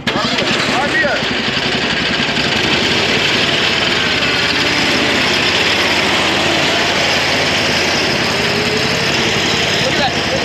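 A Harbor Freight Predator V-twin engine swapped onto an ancient zero-turn mower runs loud and steady at a constant drone, a continuous rough engine roar that holds without pause for the whole stretch.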